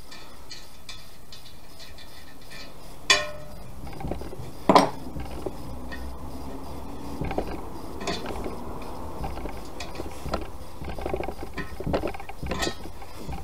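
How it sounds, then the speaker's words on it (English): A spanner works an 11mm nut on a BMW Z3 split rim, giving sparse close metallic clicks and ratcheting taps with a couple of sharper clanks early on, no talking. "Just some screws off. So 11mm spanner, 11mm nut."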